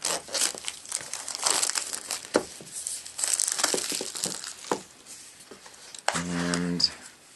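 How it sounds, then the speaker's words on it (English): Plastic wrap is cut and peeled off an iPod Touch box with a dull cutter, giving bursts of crinkling and tearing across the span, close and fairly loud, with a short buzzy electronic tone near the end. "So let's get the plastic off of here."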